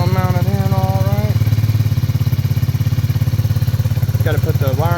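A 140cc manual mini bike engine runs at a steady, close, loud putter with a rapid regular pulse throughout, while someone talks over it.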